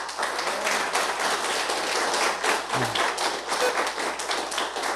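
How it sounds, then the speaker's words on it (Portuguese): Church congregation applauding, dense continuous clapping from many hands filling the room at an even level with no speech over it. "Você pode aplaudir o Senhor Jesus?"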